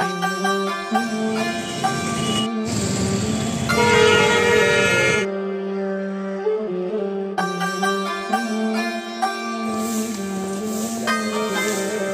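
A train sounds a loud, sustained multi-tone horn over rumbling wheels, with a brief pause before the horn blares again.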